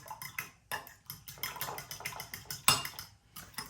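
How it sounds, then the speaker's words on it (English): Eggs being whisked in a bowl for blackberry muffin batter, a quick, steady run of light metallic clicks and taps against the bowl, close and fairly quiet, with one sharper knock partway through. "I'm gonna whisk these"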